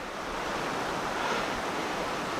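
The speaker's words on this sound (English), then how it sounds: "The river's flowing this way." A river flows near woods with a beaver lodge, giving a steady broadband rush of moving water, close and even throughout.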